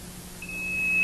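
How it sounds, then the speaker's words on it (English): An LP6 ventilator's alarm self-test at power-on: after a short quiet moment, a single steady high electronic tone comes in and holds, growing slightly louder toward the end, with no voices. "Whenever the unit's turned on, all alarms activate for 3 or 4 seconds"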